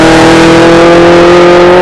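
A 1200 HP Chevrolet Camaro ZL1 Exorcist engine roars steadily at high revs, loud and close, with a strong sustained drone and no voices over it.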